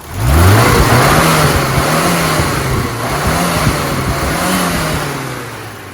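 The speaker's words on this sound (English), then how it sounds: "So this engine is ready for a test drive." A tuned 1970s Mini engine revs hard as the car pulls away on a test drive, climbing quickly and then holding a lively, buzzing drone that rises and dips with the throttle.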